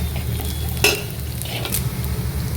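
Chopped ginger frying in a pan for mackerel curry, a close, steady sizzle with a brief clink of a utensil partway through, no speech.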